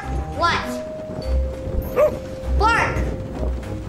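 A human voice imitates a dog barking, giving several short, clipped "bark" sounds spaced apart over game background music during Overcooked! All You Can Eat on PS5.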